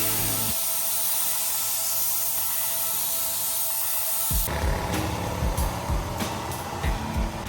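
A paint spray gun hisses steadily inside a cargo trailer being converted, a broad continuous spray that cuts off partway through, followed by scattered knocks and handling noises in the enclosed space.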